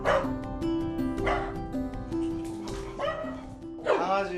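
Small dogs living in a village community hall bark and yip in several sharp bursts close by, with some whimpering between, loud and alone.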